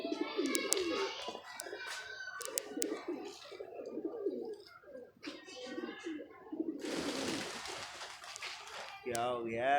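Pigeons coo and flutter close by, wings beating as the flock scatters, while someone talks over them and a burst of rushing flapping sweeps through near the end.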